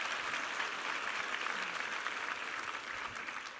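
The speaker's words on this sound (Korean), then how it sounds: "우리 하나님께 감사와 영광의 박수 올려드리겠습니다." A church congregation claps during a Christmas Sunday worship service, a continuous, even wash of many hands heard at moderate distance and slowly easing off, with no speech.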